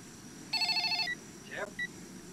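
A telephone rings once with a short electronic trilling burst, clear and fairly near over a quiet background, followed by a brief faint chirp and a snippet of voice.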